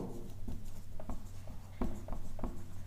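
A pen scratches across paper while a math problem on the volume of a cone is worked out, giving soft, intermittent strokes and taps close by.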